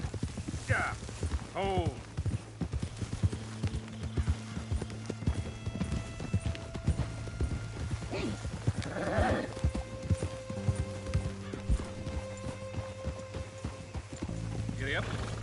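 Horse hooves clip-clop steadily in Red Dead Redemption 2, joined by occasional whinnies, snorts, and a bleating animal, with a low game music drone underneath and a couple of short spoken words.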